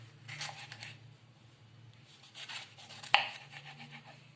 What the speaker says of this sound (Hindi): बेल पेपर को आपने इस तरह से काटना है